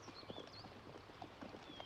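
Horses' hooves clip-clop on a road in Civil War-era England, a faint, quick irregular patter of hoofbeats under a hushed, steady background.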